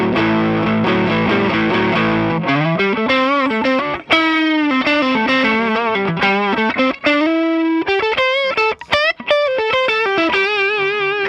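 Electric guitar run through an overdrive pedal with the gain turned up and the level lowered, playing a distorted, sustained melodic line with bends and short pauses, loud and close with no talking.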